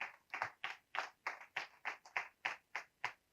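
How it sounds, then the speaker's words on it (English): Audience clapping at a panel session on building communities, made up of a dozen or so distinct, evenly spaced claps, fairly faint and close, with no talk over them. "Please, can we clap for her?"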